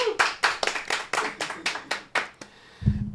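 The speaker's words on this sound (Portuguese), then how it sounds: "Mais uma salva de palmas." A small group claps in a loose, slow rhythm of about ten separate hand claps, close and distinct, which stops just before a brief low murmur at the end.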